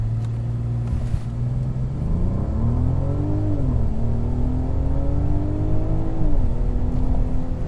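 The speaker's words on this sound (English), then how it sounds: "we are going to brake torque it to see how good it is" A 2022 Mercedes S500 4matic, a heavy 4,700-pound sedan, launches hard from a brake-torque start, its engine rising in a deep rumbling pull through gear changes, steady and loud from inside the cabin.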